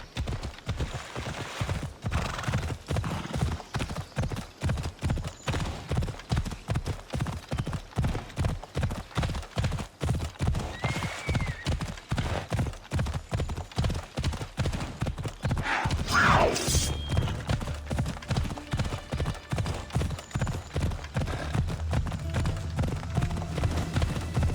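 A horse's hooves clip-clop at a steady trotting rhythm in Assassin's Creed Odyssey, close and continuous for the whole stretch, with a brief swell of other game sound partway through.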